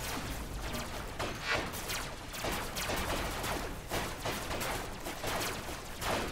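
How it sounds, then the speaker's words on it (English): Dense, continuous gunfire from a RoboCraft battle, rapid overlapping shots rattling steadily and loudly throughout with brief louder bursts, no talking. "I'm getting shot at somewhere"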